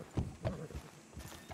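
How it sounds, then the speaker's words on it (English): Horse hooves clip-clop in an irregular rhythm through the Red Dead Redemption 2 game world, with a few nearby soft hoof falls and a faint whinny-like sound, no talking. "That's a mighty fine horse you got there"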